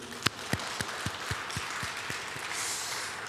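A church congregation claps during a Sunday worship service. It opens with a few distinct, separate claps and then swells into fuller, steadier applause filling the room.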